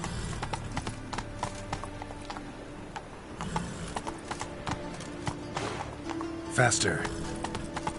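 Horse hooves clip-clop at a quick pace in a PS4 game, with a neigh near the end and mechanical clicks, all under a player's voice.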